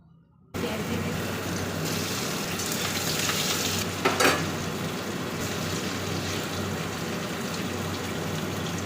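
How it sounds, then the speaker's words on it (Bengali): Marinated paneer cubes, coated with cornflour, egg, ginger-garlic paste and pepper, frying in hot oil for chilli paneer. A steady, close sizzle holds throughout, with a brief louder crackle partway through and no talking. "আমি পনিরগুলো ভেজে নিয়েছি, দেখো বন্ধুরা, সুন্দর করে লাল লাল করে।"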